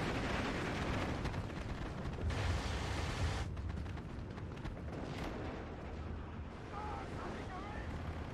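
Massed artillery firing together in the video game Steel Division 2, a broad, rumbling roar of many distant guns blending into a continuous booming wash, with voices faintly present.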